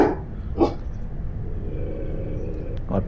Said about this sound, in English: I apologise for that, my dog barking.